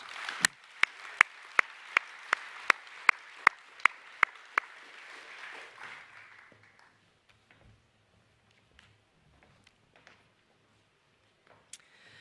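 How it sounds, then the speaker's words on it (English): Applause for award recipients at a school's senior academic awards night: a broad clapping wash with sharp, evenly spaced claps cutting through, fading out after about six seconds into a quiet hall with scattered small sounds. "please give them a round of applause."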